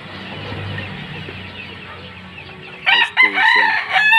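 A young white Kelso gamefowl rooster, about two months old, crows loudly and close at hand in a small backyard flock, a few broken crowing bursts rising over steady background hum.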